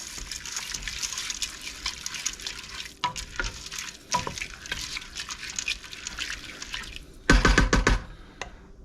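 Split peas being stirred in a pot, with soft scraping and gritty rustling, scattered clicks of a spoon, and a louder scrape near the end.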